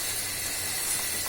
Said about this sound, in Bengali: মাংসকে এখনো ভাজছি